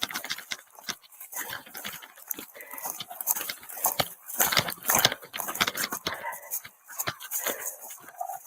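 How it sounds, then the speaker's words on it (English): A dog let loose on someone during a tense confrontation, barking, yelping and whimpering in scattered bursts amid a noisy scuffle, with voices mixed into the commotion. "I'm gonna let this dog go."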